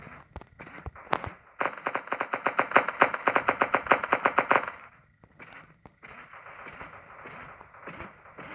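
Gunfire in the blocky shooter game Block City Wars, a rapid close burst of automatic fire lasting about three seconds after a few single shots, followed by quieter scattered shots.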